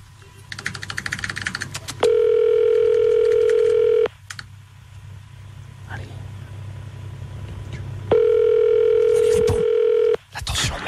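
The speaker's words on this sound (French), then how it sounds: "Vont-elles répondre au téléphone? Putain, ça sonne." Telephone ringback tone on a call, two long steady rings about two seconds each separated by a pause, with faint background noise and clicks between them.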